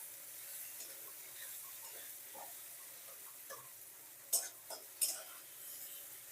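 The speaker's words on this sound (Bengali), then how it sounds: "পেঁয়াজটা এখন ভালোভাবে তেলে ভেজে নেব।" Quiet sizzle of onions frying in oil, with light scraping and a couple of sharp taps from stirring in a pan.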